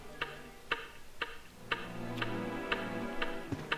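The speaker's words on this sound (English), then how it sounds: "Listening to the clock" A clock ticks steadily in a Resident Evil game, with about eight evenly spaced sharp ticks roughly every half second over a low, quiet ambient hum, with no talking.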